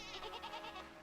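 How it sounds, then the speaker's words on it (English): A goat in a video game bleats once in a quavering, wavering cry, close and clear, lasting about a second. "I hear goats"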